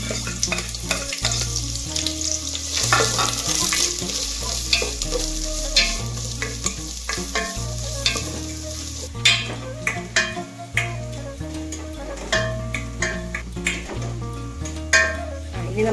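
Onion, ginger and garlic fry in oil in a pan, a steady sizzle with scraping stirs and occasional clinks of a utensil against the pan, with background music playing beneath.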